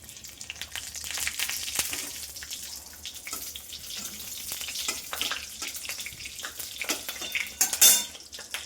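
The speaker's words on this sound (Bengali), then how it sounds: "এই যে তেল গরম হয়ে এসেছে, এবার জিরে দিয়ে দেবো।" Cumin seeds dropped into hot oil in a pan, a bright continuous sizzle and crackle with sharp pops, close and steady throughout, rising to a louder burst near the end.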